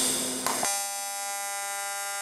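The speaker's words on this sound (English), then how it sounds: "So with the machine at 200 Hertz, we can hear a definite difference from the original 60 Hertz weld." An AC TIG welder set to 200 Hz runs on aluminum with a steady, high, buzzing electrical hum, close and unbroken, and a short crackle near the start.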